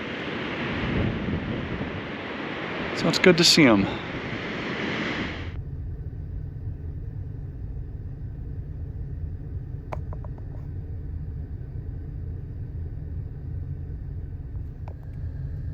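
Strong wind buffets the microphone on a beach south of a lighthouse, with a brief spoken phrase, then the gusts stop and a steady low rumble of surf carries on to the end.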